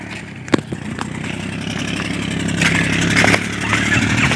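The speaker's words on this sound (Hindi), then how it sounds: "यहाँ ट्रैक्टर जा रहा है, देखो आपको दिखा रहे हैं ये।" A tractor drives past on a rural gaushala (cow shelter) road, its mid-pitched diesel engine chugging steadily and swelling slightly louder as it nears, with a few sharp knocks along the way.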